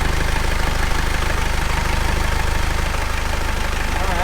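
A steady, even engine idle with a low rhythmic thrum, running close and continuous without revving, after elbow and turbo replacement.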